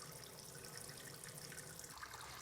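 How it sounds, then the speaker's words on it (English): Hot water runs from a kitchen tap into a sink filling deep enough to submerge a pan, a steady close rushing hiss that holds even throughout. "fill up our sink with some hot water"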